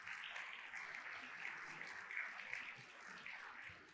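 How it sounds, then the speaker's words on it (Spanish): A church congregation claps together in a faint, steady round of applause lasting a few seconds, heard from a distance with no one speaking over it. "Da un aplauso al Señor."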